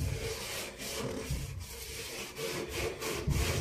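Steady back-and-forth scrubbing with a cloth and Coca-Cola on a stain, close up and rough, in repeated strokes with no talking.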